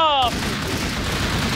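Rapid bursts of gunfire in a Minecraft Hello Neighbour-style game, a dense loud crackle of shots running steadily after a brief voice at the start.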